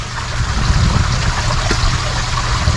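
Gray water drains steadily from an RV holding tank through a sewer hookup hose, a loud, continuous rushing flow with no pauses or voices.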